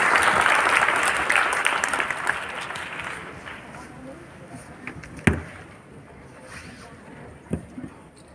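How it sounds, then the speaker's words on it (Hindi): Applause from an audience in the Gyan Bhawan hall in Patna at the Medha Diwas 2022 ceremony, welcoming the guests. It starts as dense, steady clapping and thins out into a few scattered claps and thumps after a few seconds. "जोरदार तालियों से स्वागत करें सर"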